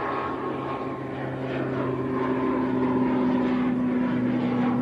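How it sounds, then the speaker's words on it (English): A Logan Air ATR turboprop takes off at Manchester Airport, its steady engine and propeller drone loud and continuous throughout, with a low droning hum rising slightly in level. "There is also a Logan Air ATR just about to get airborne as well."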